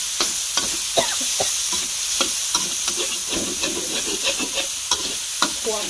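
Battered frog pieces fry in hot oil with kaffir lime leaves, a dense continuous sizzle close to the pan, broken by repeated sharp stirring clinks and scrapes of a utensil; no one speaks.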